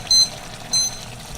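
A kitchen timer beeps twice, two short high electronic tones about half a second apart, clear and close in a quiet room.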